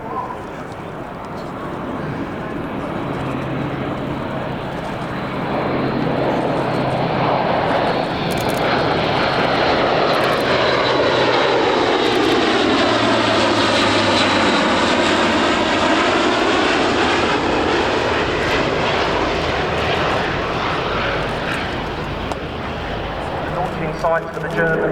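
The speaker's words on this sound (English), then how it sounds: "In then from the right, the Atlas C-1." An Airbus A400M Atlas C-1 military transport flies past at the RAF Cosford air show, its turboprop engines roaring as it approaches from the right, swelling to a loud, sweeping peak and then easing away.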